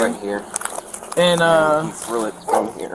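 A dog barks at an outdoor scene while people talk over it throughout, the animal sounds partly buried under the conversation.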